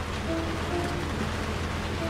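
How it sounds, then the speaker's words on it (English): Steady rain falls on a cold, freezing day, a continuous even hiss of drops with no pauses, fairly close and uniform throughout with no voices. "It's raining."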